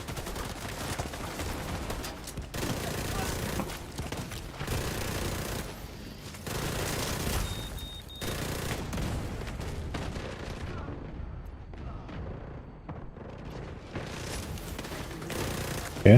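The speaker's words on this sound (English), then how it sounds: "Yeah, I'm shooting my own decoy there." Sustained gunfire from shooting a decoy in the shooter game The Division 2, with dense bursts and shots running continuously, loud and close, and brief lulls partway through.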